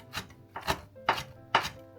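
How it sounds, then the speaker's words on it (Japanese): A knife chops yuzu pith on a cutting board in four crisp, evenly spaced strokes, close and clear with no talking. "柚子の綿を細かく刻みます。"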